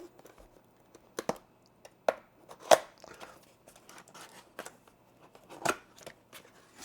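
Cardboard packaging of an AKIYO mini projector being opened: scattered soft tearing, crinkling and sharp snaps of cardboard and plastic, close and fairly quiet, with no talking.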